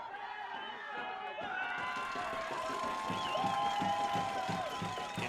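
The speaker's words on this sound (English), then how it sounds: "Drum corps, noise makers, vuvuzelas, all in the mix" A stadium crowd at a high school state championship game roars steadily, with drum corps beats, noise makers and vuvuzela-like horn tones layered into the din throughout.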